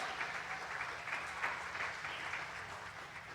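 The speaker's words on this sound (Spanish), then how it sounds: "Denle ese fuerte aplauso al Señor Jesús." Church congregation applauding for Jesus during a sermon, a continuous soft patter of many hands clapping, slightly distant and even throughout, with no voices over it.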